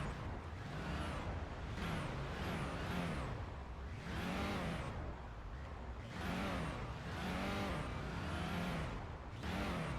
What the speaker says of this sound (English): the car is already revving up